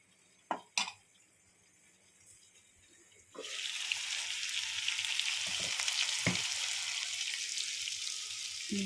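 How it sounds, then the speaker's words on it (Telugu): After a couple of sharp knocks, a steady loud sizzle begins around the third second as eggplants stuffed with a spiced onion gravy fry in a pan, with a few clinks over the continuous hiss. "అది వంకాయల్లో పెట్టాను పెట్టి అలా ఫ్రై చేస్తున్నాను"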